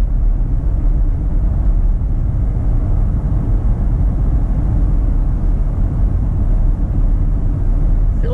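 1999 Chevrolet Yukon with a swapped 5.3 engine cruising on cruise control, a loud steady low cabin rumble of engine and road noise with no speech.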